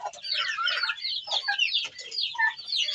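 Turkeys cluck and chatter close by, a busy run of short, rapid calls overlapping one another.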